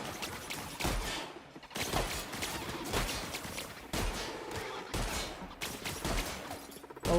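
A shotgun fires repeatedly during a firefight in The Outer Worlds. Heavy, booming blasts come in quick succession amid dense combat noise, loud and up close throughout.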